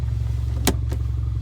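A car engine idles roughly in reverse gear with a low, steady pulsing drone, while two short mechanical knocks or clunks sound close by.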